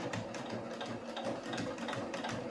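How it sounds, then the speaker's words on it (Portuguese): Sewing machine stitching cushion fabric 2 cm from the edge, a steady continuous mechanical whirr with a fast rhythmic needle clatter running loud and close throughout. "do lado direito vou costurar a 2 cm do limite da minha peça."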